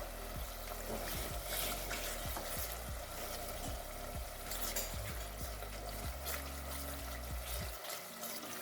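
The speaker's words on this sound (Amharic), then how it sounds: "በዚህ መልኩ ቆንጆ ሆኖ እየተቁላላ ነው።" Berbere with ground garlic and ginger frying in a pot for an Ethiopian cauliflower stew, a soft continuous sizzle with repeated low stirring knocks, fading out at the end.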